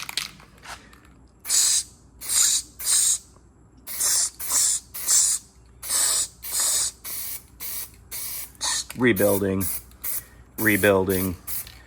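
A voice makes repeated short hissing bursts imitating a spray can, about a dozen spurts in a loose rhythm, close and loud, with brief speech near the end.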